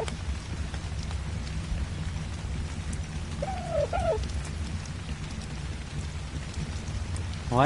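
Rain falls steadily in the video game ARK Survival Evolved, giving a continuous hiss with a low rumble beneath and a brief chirp partway through.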